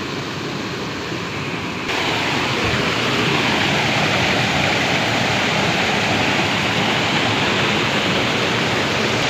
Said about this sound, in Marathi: हा बघा इथं छोटासा धबधबा काय भारी वाटतंय